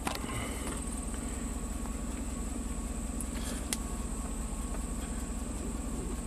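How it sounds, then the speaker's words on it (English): A Cadillac Escalade with a CAN fault idles with a steady low engine hum, constant and even, along with a faint high-pitched electrical whine and no talking. "How's the truck still running?"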